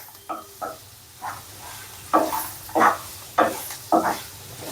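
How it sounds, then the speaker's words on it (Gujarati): Radish and its greens fry in oil in a pan, a low background sizzle broken by about eight short bursts of stirring and scraping at an uneven pace. "થોડી વાર આને તેલમાં શેકાવા દેવાનું."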